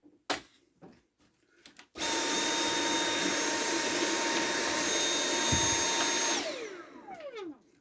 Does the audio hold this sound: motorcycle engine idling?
no